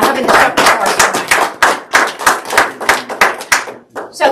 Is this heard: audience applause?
yes